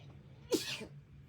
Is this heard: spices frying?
no